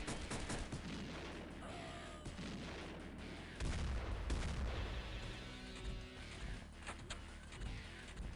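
Gunfire in the game XPiratez, with dense booming shots and explosive bursts over a busy game soundscape, including a heavier low blast partway through, loud and continuous.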